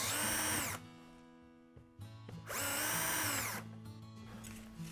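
Power drill boring dowel holes through wooden gussets on a quarter-scale boat frame, two loud high whirring bursts with a lower idling hum between them, close up.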